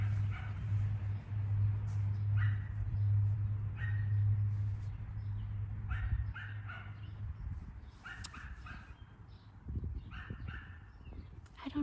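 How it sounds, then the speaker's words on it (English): A dog barks repeatedly in short bursts outdoors on a sunny day, moderately distant, over a steady low hum and background noise. "I don't know why that dog is barking so much."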